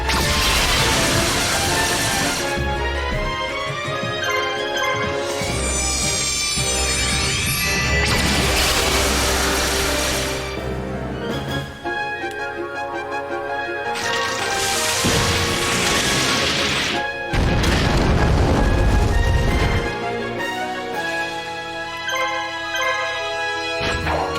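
Barrel Dragon's attack in the video game Yu-Gi-Oh! The Falsebound Kingdom plays as loud, dense crashing and booming bursts over continuous game music and effects, with several sharp impacts across the sequence.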